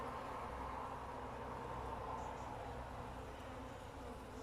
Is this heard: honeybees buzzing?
yes